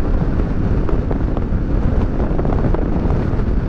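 Steady, loud wind buffets the microphone while riding a 2018 Kawasaki Versys 650 ABS Tourer on a road near Goiana, Pernambuco, with irrigation spray nearby; a continuous broadband roar runs throughout with no speech.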